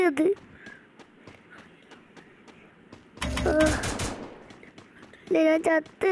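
Video game gunfire breaks out in a dense burst of rapid shots midway, after quiet ticking, and a person speaks excitedly before and after it.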